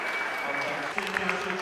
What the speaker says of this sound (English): Let's give our best one round of applause.